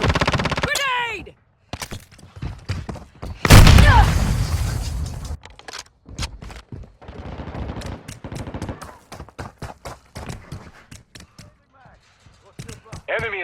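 A grenade goes off in the Warzone Mobile shooter game, one loud deep blast amid rapid gunfire, crackling shots and game voice callouts, with the shooting continuing in bursts afterward.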